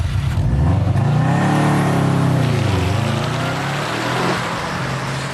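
A Subaru Impreza WRX STI with 280 horsepower is driven hard on a wet racetrack, its engine loud and close as it revs up and down through the gears, with steady road and spray noise beneath.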